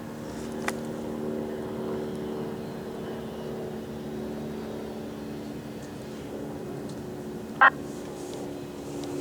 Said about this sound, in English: Of course the airplane's flying over now.